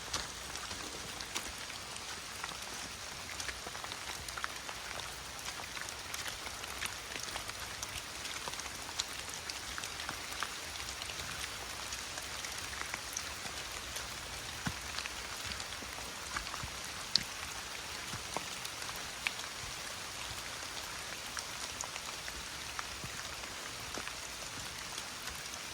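Steady rain falls in a redwood forest, a dense even patter of drops on leaves and ground, with occasional sharper nearby drips and no voices.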